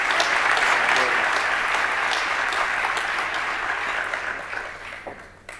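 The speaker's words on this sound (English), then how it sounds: "Please give him a round of applause." A school district audience gives sustained applause for a church pastor, dense clapping filling the room and gradually thinning out as it fades near the end.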